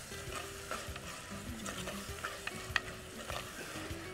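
Spices are stirred and sautéed in a pan, a soft continuous sizzle broken by repeated scraping strokes and small metallic clicks of a spoon, close and fairly quiet with no talking.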